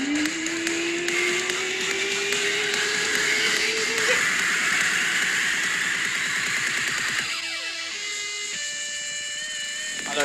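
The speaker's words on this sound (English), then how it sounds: "You can hear the washing machine in the background winding up." A washing machine winds up in the background, a rising whine climbing steadily for several seconds over a dense wash of broadband noise, later giving way to steady sustained tones.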